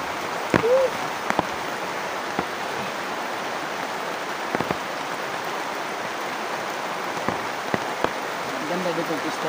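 Cold rain falls steadily as a broad, even hiss on surfaces close by, with a few sharp drop taps scattered through and faint voices briefly in the background.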